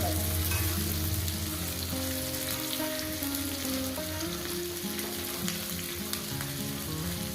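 Potatoes, onions and okra sizzle and fry steadily in a pan, a continuous close crackle with occasional stirring and no voices.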